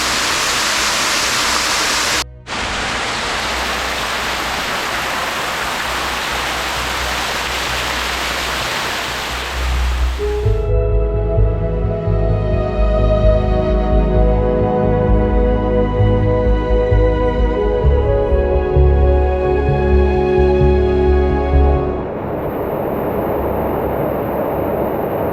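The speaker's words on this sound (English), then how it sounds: "the water seems to increase and then drop off and then increase" Water rushing down an active reservoir overspill on a fine day, a loud, steady broadband roar filling the whole clip, with a strong low rumbling surge in the middle section.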